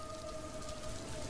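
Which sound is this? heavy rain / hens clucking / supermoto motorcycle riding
heavy rain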